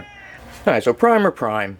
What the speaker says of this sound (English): if you hear this cat meowing, she's just very happy because she never gets to come down here